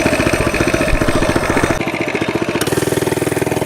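A mini bike engine running with a sticking throttle, loud and close, a rapid pulsing putter that holds at a higher pitch, then drops abruptly to a slower, steadier idle-like chug.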